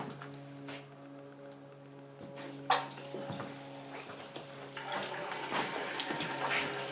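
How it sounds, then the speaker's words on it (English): Water runs from a tap fed by well water, quiet at first and then growing into a stronger, rushing splash as a pot fills, over a low steady hum. "I turn the valve on and I can fill up to get the water that I want"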